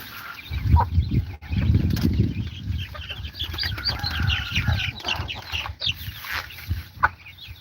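Hens clucking loudly and continuously close by on a farm, several birds overlapping in busy, irregular calls, with no talk.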